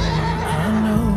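A horse neighs loudly and close by, a shaky rising whinny that fills the brief moment without any voices.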